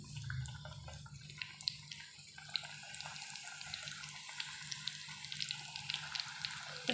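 Crispy potato samosas fry in hot oil with a steady, dense crackling sizzle that carries on unbroken from start to finish, close and fairly loud, with no voices over it.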